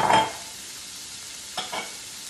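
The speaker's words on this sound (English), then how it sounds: "We're going to go ahead and stir this around. Get that nice and coated with the olive oil" Carrots, celery, red and white onions and garlic are stirred in olive oil in a soup pot: one firm scrape at the start, then quiet frying and two soft scrapes.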